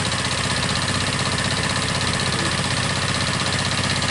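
A Yamaha Lexam automatic scooter with a sluggish, unresponsive engine idles close by, a steady, even mechanical drone with a faint rapid knock running unbroken and alone.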